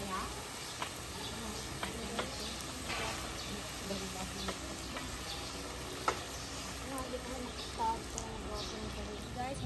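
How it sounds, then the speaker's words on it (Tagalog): Lumpia filling is sautéed in a pan, a faint, steady sizzle with occasional clicks and stirring scrapes, quiet and close, with a voice speaking softly over it. "gigisa na natin ang ating lumpiang kubad"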